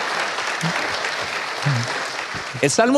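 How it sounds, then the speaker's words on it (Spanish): Church congregation clapping for the fathers among them, a broad steady applause with a voice speaking over the final moments. "un gran aplauso para los padres que están entre nosotros"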